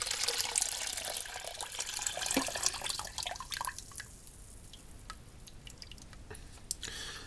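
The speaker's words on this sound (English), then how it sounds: "I'm now going to go and wash this very thoroughly in the sink" Tap water runs into a sink while photographic film is rinsed after iodine-like developer staining, a steady broadband wash with dripping and splashing spikes, close and fairly loud, with no talk.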